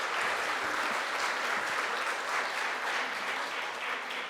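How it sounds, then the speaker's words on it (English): A conference audience at an anniversary event applauds steadily and continuously, a moderately loud, even patter of many hands sustained throughout. "An applause to Esther."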